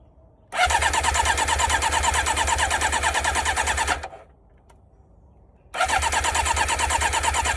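An old motorcycle saved from the junkyard is started twice: the engine fires and runs loud and steady for several seconds, cuts out, then starts again.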